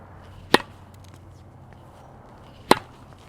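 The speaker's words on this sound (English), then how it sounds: "hopefully you can hear the amount of pop I'm getting on it" Two crisp, sharp pops of a tennis ball coming off the racket on serves, spaced about two seconds apart, each loud and close against a quiet outdoor background with no talking.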